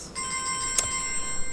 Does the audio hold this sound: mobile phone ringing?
yes